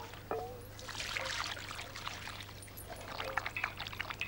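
Water trickles and splashes as it is poured out for a pet dog, a faint, uneven stream with soft bursts, heard over a low steady hum.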